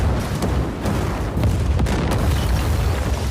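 A bomb explosion sound effect: a loud, dense, sustained roar of low rumbling noise that holds steady for about three seconds with no clear single blast and no speech.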